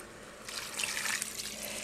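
Water runs and splashes steadily for a couple of seconds as it is poured into a cooking pot of beef, bacon and vegetables, a close, moderately loud gush with a brief quieter start.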